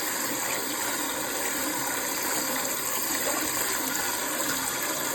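Steady running water from a tap rinses raw turkey necks for a boil, a continuous even wash of noise with no voices throughout.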